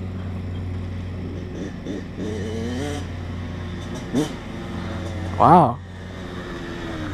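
A dirt bike engine idles steadily nearby, a low continuous drone under people talking, with a brief louder burst near the end.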